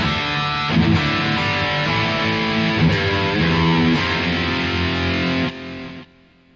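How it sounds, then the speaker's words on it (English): Electric guitar played through an amp with heavy distortion, sustained gritty chords ringing out loud and thick for several seconds before cutting off, with no talking. "when I click on the amp, and then the distortion comes"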